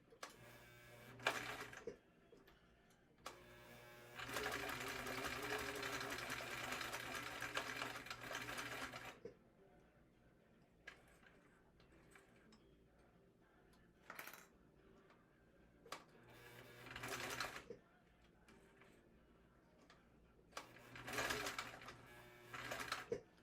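A sewing machine stitching a leather wallet around a curve runs in several bursts, a steady mechanical whir of a few seconds at a time broken by pauses, with small clicks and handling knocks between runs.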